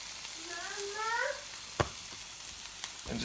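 An egg omelet cooks in a Teflon pan with a gentle sizzle, broken by a sharp clack from the pan or utensil partway through and lighter taps later, while a brief rising whine-like tone sounds early on.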